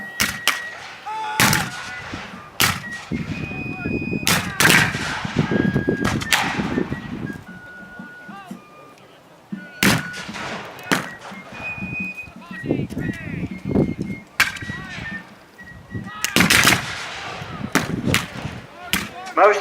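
Percussion-cap muzzle-loading rifles fire at a Civil War reenactment: a string of sharp, loud reports at irregular intervals, some close, others more distant, mixed with hoofbeats, shouting voices and battlefield commotion.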